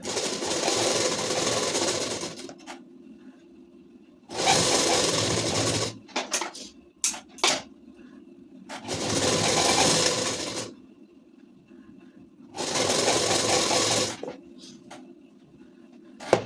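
Sewing machine attaching lace to a ladies suit, running in four loud bursts of steady stitching separated by short pauses with faint clicks and handling noises between them.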